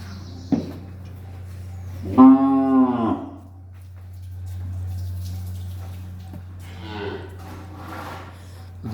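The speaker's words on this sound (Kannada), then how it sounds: "2 ಕರುಗಳು." Calves in a cowshed among Malnad Gidda, Hallikar and Punganur cattle: one loud, close moo rises and falls, followed by softer rustling and a brief quieter vocal sound over a low steady hum.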